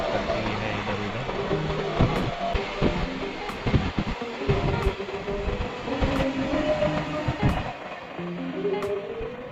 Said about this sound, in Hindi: और ये ट्रेन आई है, ये कमर्शियल यूज़ वाली ट्रेन है जो सिर्फ मटेरियल को ट्रांसपोर्ट करती है इधर उधर।